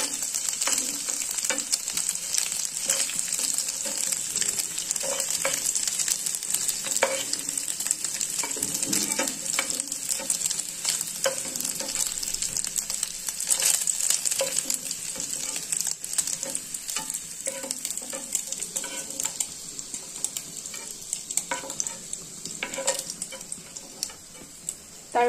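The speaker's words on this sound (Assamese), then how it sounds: "এইখিনি মই এতিয়া হল অকণমান ভাজি ললো" Egg paneer fries in a pan with a continuous soft sizzle broken by scattered ticks and light stirring clicks, heard alone and fairly quiet.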